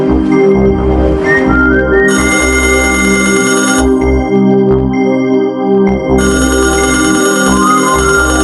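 A telephone rings in repeated electronic bursts in an old Pakistani TV drama, loud and close, with brief pauses between the ringing tones.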